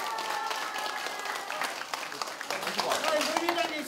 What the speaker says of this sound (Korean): 박수 예. 박수